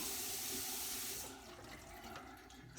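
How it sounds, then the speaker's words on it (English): Cold water runs from the right-hand side of a newly installed bathroom faucet into the sink, a steady close hiss of flow that softens and becomes more uneven about halfway through. "right-hand side has cold water coming out"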